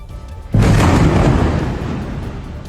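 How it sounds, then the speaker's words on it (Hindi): A powerful explosion as a high-rise building in Gaza is struck and brought down, a sudden loud blast followed by a sustained heavy rumble of collapse that slowly fades. "एक जोरदार धमाका और पूरी बिल्डिंग जमींदोज हो गई।"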